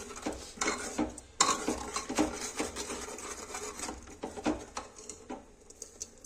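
Vegetables with coriander and green chilli get stirred in a cooking pot, a spoon scraping and clattering in an uneven rhythm of knocks and scrapes, close and fairly loud.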